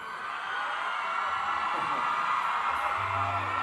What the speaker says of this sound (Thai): เสียงกรี๊ดที่มันแบบส่งขึ้นมาบนเวทีนี้